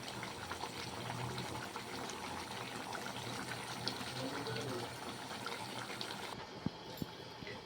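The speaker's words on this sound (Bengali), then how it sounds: "আমি একটু জল অ্যাড করলাম" Water poured into a pan of simmering chicken curry, a continuous close splashing and bubbling wash that ends abruptly near the end with a couple of light knocks.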